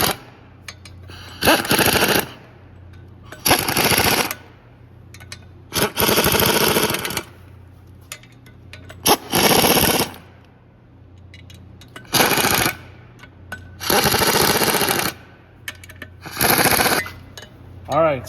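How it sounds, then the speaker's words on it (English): A pneumatic impact wrench tightens the clutch bolts on a 2009 Volkswagen Golf City 4-cylinder in a star pattern, firing loud close bursts of rattling hammering, about eight runs separated by short pauses over a low steady hum. "when you tighten these things down, you want to make sure that you do it in a nice even pattern"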